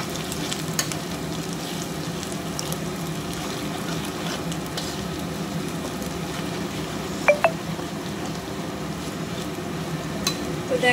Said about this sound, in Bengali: তো দেখো আমার মশলাটা ভাজা হয়ে গেছে